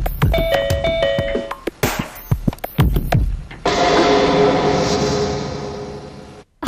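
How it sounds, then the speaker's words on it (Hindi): A home doorbell chimes a short ding-dong melody up close, followed by sharp knocks or clatters and then a sustained loud, noisy wash of sound. "घंटी बजती है"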